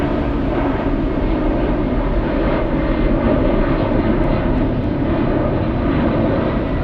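A large airliner at Frankfurt airport roars steadily at a distance, a broad, sustained jet rumble with no voices.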